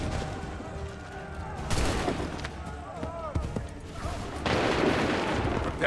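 Musket volley gunfire in the video game Assassin's Creed III, bursts of crackling shots and booms over battlefield ambience, with voices shouting commands in between.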